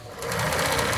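Sewing machine running steadily up close as it stitches a seam on a short skirt, a fast even rattling drone throughout.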